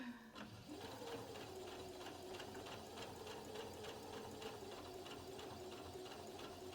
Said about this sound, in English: I'm coming around and I'm aiming for that next seam